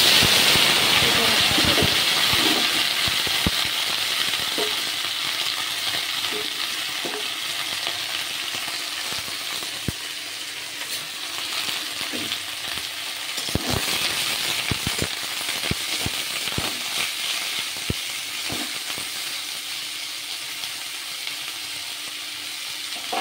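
Bottle gourd peel sizzles and hisses as it fries in oil with poppy seeds, a steady close crackle broken by sharp clicks and scrapes of stirring.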